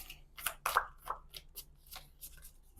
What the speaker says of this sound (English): They want to be shuffled one more time.